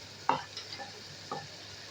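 Chana dal lentils tumble into frying goat meat, a sharp clatter followed by soft stirring scrapes and a faint sizzle beneath, close and fairly quiet.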